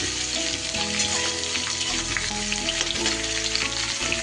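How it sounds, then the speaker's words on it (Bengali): Mixed vegetables with prawns, including beetroot, fry loudly in a pan with a steady close sizzle, while a spatula stirs and scrapes in uneven strokes throughout and no one talks. "এগুলোও আবারও নেড়ে নেব কয়েক সেকেন্ড।"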